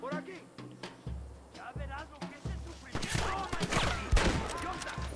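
Rifle gunshots in the Western game Red Dead Redemption: a series of sharp cracks, sparse at first and then a denser volley, mixed with a voice talking throughout.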